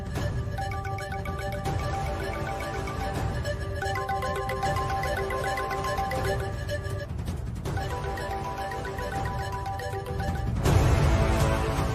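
A mobile phone ringtone plays a repeating melodic tune for several seconds, steady and fairly loud indoors, with a brief break and then a louder, denser burst near the end.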